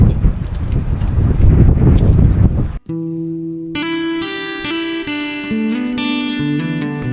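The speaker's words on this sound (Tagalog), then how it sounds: "Medyo mahangin eh." Rough, loud wind buffets the microphone for a few seconds, then cuts off abruptly and gives way to music.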